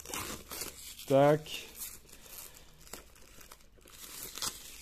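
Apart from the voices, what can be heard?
unwrapping a steelbook from its packaging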